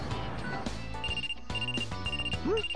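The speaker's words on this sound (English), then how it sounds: "Oh, my cell phone." A cell phone rings with a bright electronic melody in the Trauma Center: Second Opinion video game, repeating tones heard clearly over background game music.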